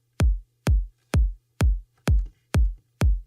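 Electronic kick drum layered with a faint fading-in white noise sweep for extra thump, seven evenly spaced deep hits repeating at a steady pace over a low hum.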